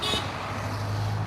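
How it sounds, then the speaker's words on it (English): A car horn sounds in the street amid passing traffic, a short tonal blast at the start followed by the low rumble of a vehicle nearby. "Thank you for the honks."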